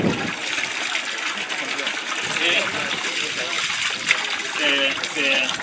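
Water running from the opened tap of a tank supplied with pumped natural drinking water, a steady gushing trickle with people talking over it nearby.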